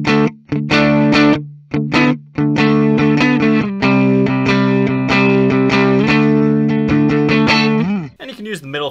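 A 1974 Gibson L6 Midnight Special with a bolt-on neck, played on its neck pickup through a distorted, chorus-tinged tone: loud sustained chords and ringing single notes with brief gaps, ending in a warbling bend.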